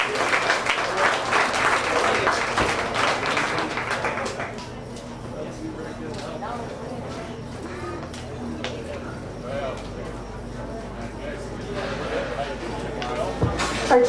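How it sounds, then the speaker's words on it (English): An audience at a county fair swine show applauds the champion purebred Duroc market pig and its young exhibitor, dense clapping for about four seconds, then fading into a quieter barn with scattered taps and murmurs. "Give him a big round of applause."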